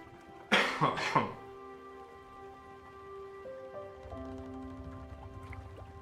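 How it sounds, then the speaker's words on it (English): Two sharp coughs sound close and loud, followed by a quiet steady hiss and faint background game sounds. "I'm going to have to cough."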